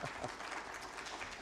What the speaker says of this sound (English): I think that deserves a clap, actually.